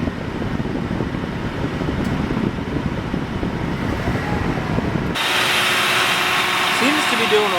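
A 1977 Cadillac Eldorado fitted with a replacement alternator runs as a steady low rumble, then a loud, brighter mechanical whir with a whining tone takes over abruptly partway through and holds to the end.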